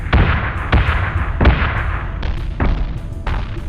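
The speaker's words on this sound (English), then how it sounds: "getting shot in the rear by the missiles" Missiles strike a starship's rear hull in the Battlestar Galactica Deadlock PC game, a run of heavy booming impacts, about six sharp hits spaced unevenly, loud and close over a low rumbling background.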